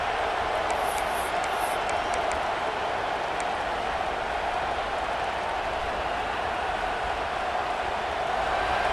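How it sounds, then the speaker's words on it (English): A stadium crowd in the EA Sports College Football 26 video game swells into a dense, continuous roar, steady and loud throughout with no clear pauses. "This crowd rising up, sensing that its defense needs some help."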